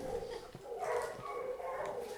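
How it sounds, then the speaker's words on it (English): Puppies yip and whimper faintly in the background of a quiet indoor space, a few short high cries rising over a low steady hum. "you can hear the puppies in the background too going"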